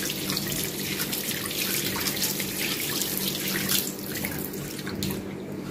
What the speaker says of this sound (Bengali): আমি এখানে হাতটা ভালো করে ধুয়ে নিই